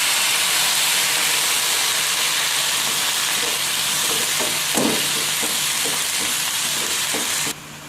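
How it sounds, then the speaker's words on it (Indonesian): Water added to a pan of carrots so they soften, producing a steady loud hiss of simmering and steam, with faint stirring taps partway through and an abrupt drop in level at the very end. "Nah ini akan saya kasih sedikit air ya, untuk biar wortelnya lunak."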